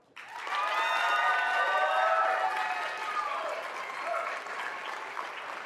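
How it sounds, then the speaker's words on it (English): Crowd at a Los Angeles City Council meeting applauding in support of permit reform, a sudden swell of steady clapping with cheers and whistles, sustained and loud throughout. "I just wanted to do real quick a round of applause from all the people here in support of the permit reform"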